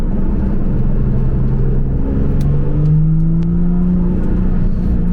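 A Porsche 991.2 Carrera S with a Stage 2 engine tune idles with a steady, muffled low rumble, exhaust valves closed, rising slightly in pitch as it revs gently, with no voices.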